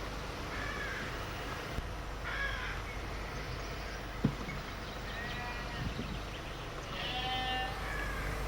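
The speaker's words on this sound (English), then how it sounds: "You can hear the sheep calling to each other." Sheep bleat to one another out in an open landscape, several wavering calls spaced a few seconds apart, fairly faint over a steady outdoor background hiss.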